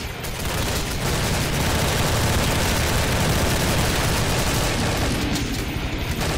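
Dense, continuous automatic gunfire from a zombie escape round in Counter-Strike: Source on the ze_shroomforest2_b6 map, many weapons firing at once in a loud, unbroken barrage that lasts throughout.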